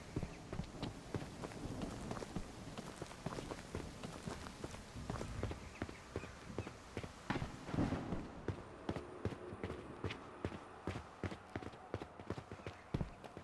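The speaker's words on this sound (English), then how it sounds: "I can't tell if those footsteps are zombies or does my footsteps rendering twice." Footsteps in a zombie video game, a rapid steady run of soft thudding steps that continue throughout, with a brief muffled thump in the middle and quieter, crisper steps afterward.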